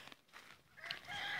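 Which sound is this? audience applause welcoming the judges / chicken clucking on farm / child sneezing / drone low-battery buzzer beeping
chicken clucking on farm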